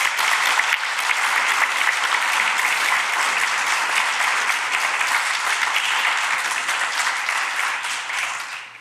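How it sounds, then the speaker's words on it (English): An indoor forum audience gives sustained, dense applause at close range that stays loud throughout and trails off at the end. "So please give them a round of applause and thank them."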